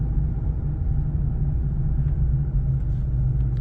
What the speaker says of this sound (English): So they end up keeping it in town, where it's all the traffic comes through in town.